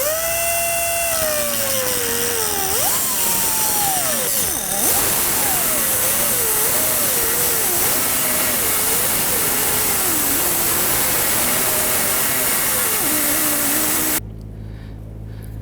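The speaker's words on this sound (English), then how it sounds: "use a cutting tool to cut the nut on both of these here" A power cutting tool grinds through a rear sway bar link nut on a 2006-11 Honda Civic, its loud, continuous whine rising and wavering in pitch under load for about fourteen seconds before cutting off abruptly.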